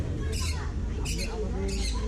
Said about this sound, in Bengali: অদ্ভুত সুন্দর এই রেড লরি পাখিটা